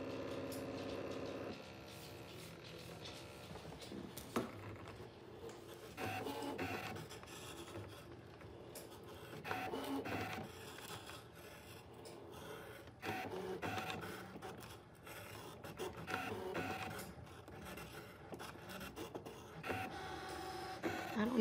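A Brother ScanNCut machine cuts a t-shirt design with a soft, steady mechanical whir. Faint motor shifts and small clicks repeat as the blade carriage moves back and forth over the material.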